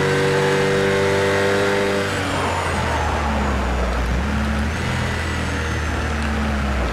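A rear-engine Porsche Cayman GT4 race car in the racing game Project CARS 2 drones loudly and steadily, its engine pitch shifting as it takes a corner. The engine fills the whole stretch with no talk over it.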